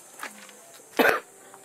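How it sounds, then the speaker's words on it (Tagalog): A single harsh cough bursts out close by, preceded by a faint throaty sound, with quiet room tone around it. "Ay, grabe ang ubo ko"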